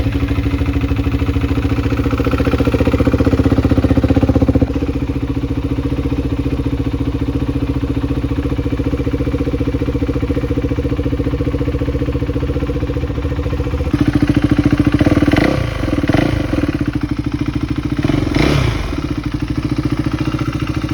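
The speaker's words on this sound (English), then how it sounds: "I decided I'm just gonna start it because I don't want to wait." A 2021 KTM Duke 390 single-cylinder motorcycle runs close and loud, a steady idle with brief rises in revs and some clatter toward the end.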